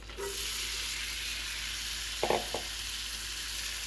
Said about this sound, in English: It's at a medium heat, and I'm going to add the onions in.